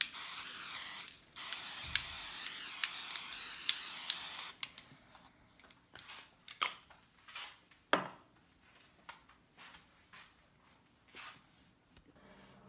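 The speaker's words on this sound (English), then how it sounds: "So I'm gonna add non-stick spray to the bottom of our pan." Non-stick cooking spray hisses onto the bottom of a pan while a meat lasagna is being prepared: two sustained spray bursts lasting a few seconds, followed by light clicks and clatter of kitchen items, with no talking.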